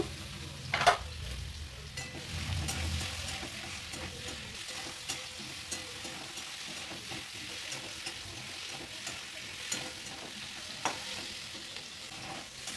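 Jackfruit frying in a pan with salt and turmeric, a soft, fairly quiet sizzle beneath intermittent stirring scrapes and a few sharper clinks of the utensil, close by with no voices.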